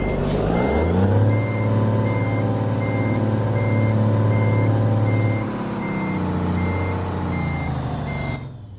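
Steady, evenly spaced reversing beeps ring out from a truck in American Truck Simulator, backed by a continuous diesel engine drone and a high whine that fades near the end; no one talks.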